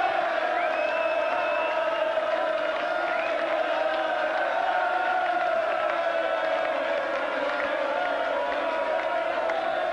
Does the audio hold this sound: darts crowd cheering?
yes